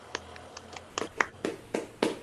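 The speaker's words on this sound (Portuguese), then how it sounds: "Uma salva de palmas para Paula Castiglione." A few sparse, scattered hand claps welcome a guest on a podcast about voice and choral conducting, quiet and close, with no talking over them.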